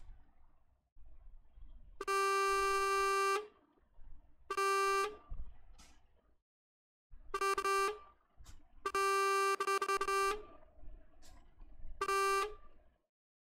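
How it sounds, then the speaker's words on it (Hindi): DAF XG+ truck horn in Euro Truck Simulator 2, sounding in several loud sustained blasts of uneven length separated by short gaps, alone with no talk. "हॉर्न भी अच्छा है"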